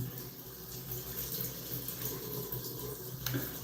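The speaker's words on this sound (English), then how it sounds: "I'm going to give my face a good wash." Water runs steadily from a tap for washing the face, a close, even splashing stream that continues without pause and without talk.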